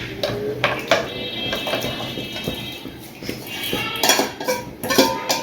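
Metal pots and utensils clink and clatter as meat goes into a cooking pot for khichuri, several sharp clanks and scrapes over a soft background hiss, with no one talking.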